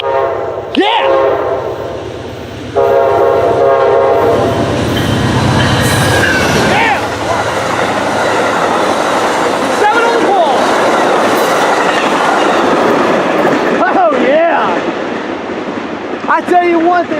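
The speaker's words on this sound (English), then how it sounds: "there goes the Amtrak 79 as he rips through North Collier with P40GC number 191 in command" An Amtrak passenger train led by a P40 locomotive, number 191, rips through North Collier at speed with loud horn blasts over a roaring, rumbling rush of passing cars that fades toward the end.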